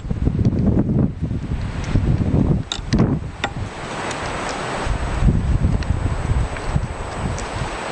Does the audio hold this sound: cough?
no